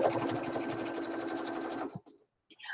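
A sewing machine runs a rapid, steady burst of stitches for just under two seconds, close by, then stops, followed by a couple of faint clicks.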